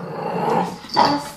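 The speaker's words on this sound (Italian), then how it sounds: "Questo qua è il mio cagnolino che ho preso da poco" A small dog growls and then breaks into a sharp bark near the end, close and fairly loud, with no talking over it.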